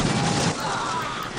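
Gunfire crackles in a dense burst in the strategy game Dawn of War, a continuous fusillade of shots that is loud and busy at first and then thins slightly, with no talk.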